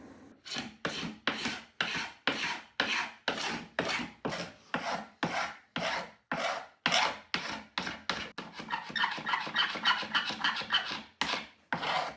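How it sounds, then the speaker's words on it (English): A carbide scraper works across an end grain wood cutting board glued up from small scraps. It makes a steady series of about twenty crisp, raspy strokes that are close and evenly paced, then turn into quicker scratching near the end. "Next step is to give it a little scraping with the old carbide scraper."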